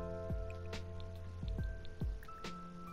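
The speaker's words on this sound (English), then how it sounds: "I'm so over this rain." Rain falling in The Sims 4, heard as scattered soft drips and splatting drops over a steady low background hum, with several distinct drop impacts spread across the moment.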